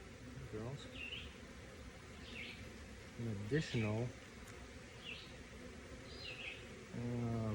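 Honey bees swarm around a new Flow Hive while a nuc is installed, with close buzzing that rises and falls in pitch as individual bees fly past, over a constant hum.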